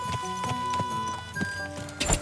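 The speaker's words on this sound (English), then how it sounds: "That looks like a bloody expensive horse." Horse hooves clip-clop in a steady rhythmic pattern, several distinct knocks over about two seconds with tonal game music underneath.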